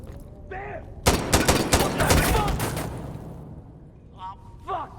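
Gunfire in the Insurgency: Sandstorm video game: a sudden loud burst of rapid shots and a sustained fusillade that slowly fades, with brief voices before and after the firing.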